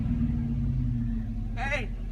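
Car driving along with a constant low engine drone and road rumble, and a short shouted voice rising over it near the end.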